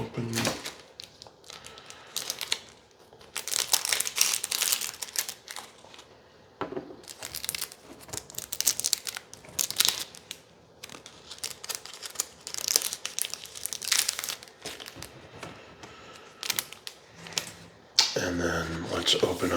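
Thin card packaging for Assassin's Creed Magic: The Gathering Secret Lair cards being cut open up close, with dense bursts of crinkling, tearing and snipping rustle in irregular clusters, alone without talk.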